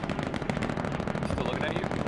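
An MG42 machine gun fires in the game Hell Let Loose, a rapid ripping burst of closely packed shots that sounds close and loud, with a voice talking over it.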